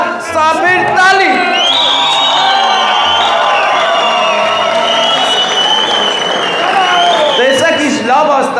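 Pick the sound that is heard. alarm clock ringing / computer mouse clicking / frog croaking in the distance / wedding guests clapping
wedding guests clapping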